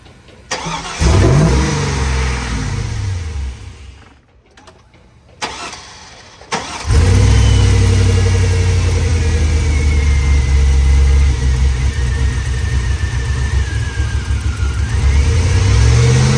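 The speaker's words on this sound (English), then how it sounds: "So we're gonna fire it up." A Chevrolet Silverado truck engine, just tuned up with an oil change, cranks briefly, stalls, then catches and settles into a loud, close, steady idle with slight roughness and a rising whine.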